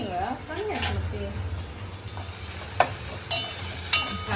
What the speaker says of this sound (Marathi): कांदो भाजू दे.